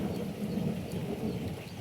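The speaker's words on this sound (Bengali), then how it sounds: "আর মেঘ ডাকছে" Low thunder rumbling through a light drizzle, a deep continuous roll that swells and ebbs over the soft patter of rain, fairly distant, with no voices.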